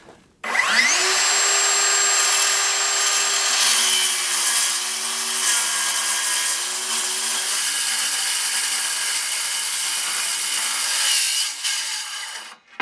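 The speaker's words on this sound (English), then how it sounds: "It'll actually cut through this 1/4 inch aluminum plate." A Ridgid saw fitted with a wood blade cuts through 1/4 inch aluminum plate with a loud, close, high-pitched whine. The blade spins up fast, keeps a harsh grinding scream for about ten seconds, then winds down.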